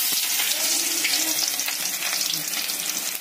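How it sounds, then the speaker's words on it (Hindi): Onion fries in oil in a kadhai over a gas flame, as the base for a chicken dish. A loud, dense, even sizzle fills the whole stretch without a break. "कढ़ाई के अंदर डाल दिया तेल, और उसके बाद और प्याज डालेंगे अपने,"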